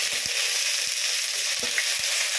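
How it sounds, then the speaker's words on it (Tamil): Fresh curry leaves sizzle in hot oil in a frying pan with dried chilies, ginger and garlic, a loud steady hiss with occasional soft pops and stirring knocks, close up and without talk. "இந்த இப்போ இந்த கருவேப்பிலை போடுறேன்."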